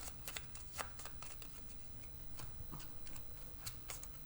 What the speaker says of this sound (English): I need to shuffle my cards.